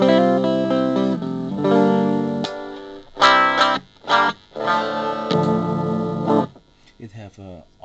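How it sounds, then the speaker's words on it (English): Electric guitar played through an MXR Custom Badass 78 Distortion pedal, crunchy chords and sharp stabs with short gaps between, loud and close. "I think it's my favorite pedal, distortion pedal."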